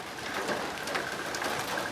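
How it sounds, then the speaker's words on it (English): Pouring rain falls outdoors during a 2012 VW Touareg battery replacement, a steady dense hiss of drops pattering on surfaces with no breaks and no voices. "Hopefully you don't have to do it in the pouring rain"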